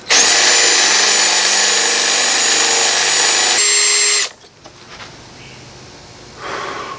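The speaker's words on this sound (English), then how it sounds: "just drilling these bolts out" A power drill whines loud and steady for about four seconds while boring out bolts on a first-generation Honda Insight, then stops, leaving faint handling noises and a short final burst.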